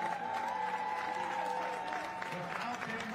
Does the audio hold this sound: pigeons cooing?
no